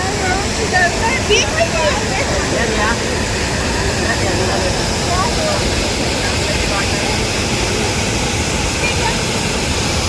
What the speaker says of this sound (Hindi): ये देखिए जो जलप्रपात दिख रहा है, 50 फीट ऊंची चट्टानों से पानी गिरता है।